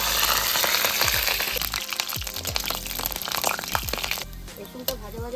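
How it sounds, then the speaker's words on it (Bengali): Washed garlic fries in a kadai with a busy crackling sizzle and scattered sharp pops, loud and close, easing somewhat toward the end. "রসুনটা ভেজে নিই।"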